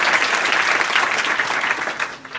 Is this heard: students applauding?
yes